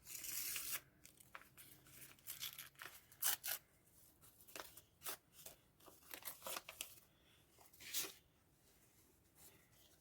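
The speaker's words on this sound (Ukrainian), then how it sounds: "Ось наш пакетик. Ми його відкриваємо." A paper packet is torn and opened in a series of short, close crinkling and ripping bursts, quiet between bursts.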